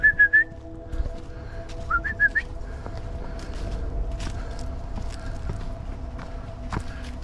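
A person whistles a few short, bright notes in two quick bursts to call a rescue dog, followed by scattered clatter and light footsteps at moderate distance.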